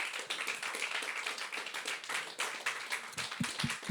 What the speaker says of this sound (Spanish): Démosle un aplauso al Espíritu Santo.